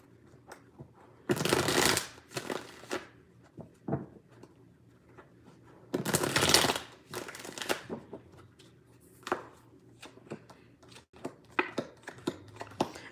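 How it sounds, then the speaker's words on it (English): Tarot cards being shuffled in two long bursts of riffling, with scattered quieter flicks and taps of the deck between them, close and clear with no talking. "Let me just pull a couple of cards"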